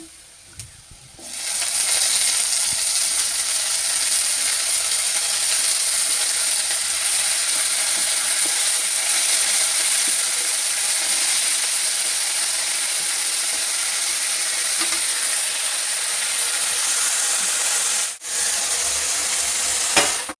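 Fish slid into hot oil over fried chopped onions sizzles loudly and steadily for about twenty seconds after a quiet start, with one brief dip near the end and no voices.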